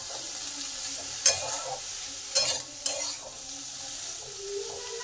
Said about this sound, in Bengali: এবার 8 থেকে 10 মিনিট চাপা দিয়ে দিলাম, যাতে পটলগুলো ভাজা হবে আর সেদ্ধও হবে।